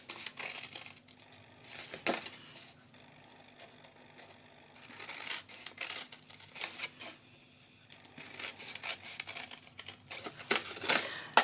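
Scissors cut card along score lines for a small box, giving repeated close crisp snips and papery crunches in uneven bursts, with soft handling rustles between cuts.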